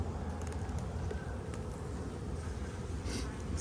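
Honeybees in an opened overwintered hive give a continuous low buzzing hum, close and steady, with a few faint clicks and handling sounds on top.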